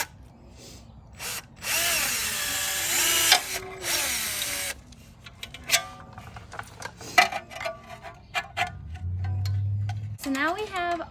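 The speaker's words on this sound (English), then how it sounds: "So now we have all of the holes drilled in our dust cover and in our tabs." A power drill bores holes through a Jeep Wrangler LED wheel ring light's dust cover and mounting tabs in loud, sustained whirring bursts that start and stop, with quieter handling noises and brief low sounds between runs.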